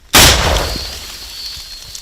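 A single loud, sharp weapon blast during combat in Donbas, Ukraine cracks out and then rumbles away in a long decaying echo.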